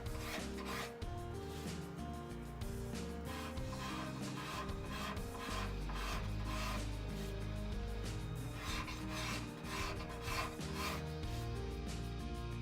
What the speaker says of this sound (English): The last step was to blend everything together with a scraper.